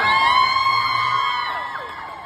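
Crowd cheering for a singer at an ADDA shoe event in Maha Sarakham, loud and sustained, with shrill whoops and whistle-like cries sliding over a steady roar, no talking.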